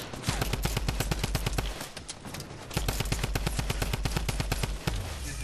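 Rapid automatic gunfire in Fortnite, long bursts of fast, evenly spaced shots with a brief pause between them, loud and close.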